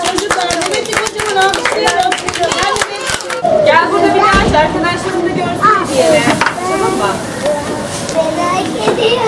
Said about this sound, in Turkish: Şimdi kocaman bir alkışlayacağız.